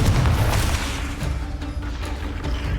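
A booming blast from the Confringo spell in the video game Hogwarts Legacy. It is a loud, dense rumble that fills the whole moment and fades only slightly, with no voices over it.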